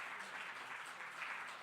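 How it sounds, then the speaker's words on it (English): An audience applauds in a closing tribute salute, steady continuous clapping from many hands that sounds somewhat distant and even throughout, with no voices over it. "give yourself a round of applause"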